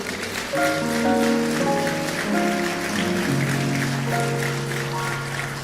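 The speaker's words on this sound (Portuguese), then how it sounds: "Você pode aplaudir Jesus?" A church congregation applauds during a worship service, a steady wash of clapping under sustained music with held tones and shifting chords.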